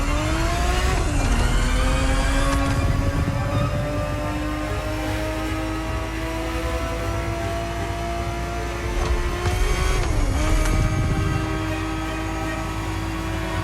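A Ferrari 365 GTB4 in The Crew Motorfest roars at full throttle, a loud, steady engine note that climbs, then drops and rises again at two gear shifts, with no voices.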